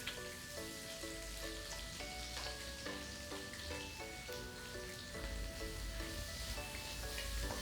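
Two large, finely chopped onions sizzle steadily in a pan, a dense continuous frying hiss with a few faint clinks, sounding close and fairly loud with no talking.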